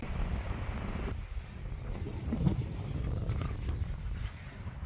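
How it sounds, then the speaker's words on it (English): Wind gusting through trees on a mountain trail near Flagstaff, Arizona, a steady broadband rush with mild buffeting against the microphone, continuous and fairly soft, with no talking. "wind in the mountains and through the trees"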